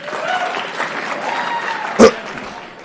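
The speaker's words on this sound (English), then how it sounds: "By round of applause in here, just the men." Men in the audience at a stand-up comedy show clap together in a steady round of applause, with a voice audible over the clapping and one brief louder burst near the end.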